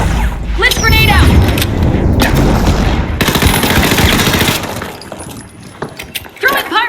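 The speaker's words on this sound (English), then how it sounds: "Blitz grenade out." Grenade blasts and gunfire in Rainbow Six Siege: a heavy burst of booming, crackling noise lasting a few seconds, loud and close, with game voices heard before and after.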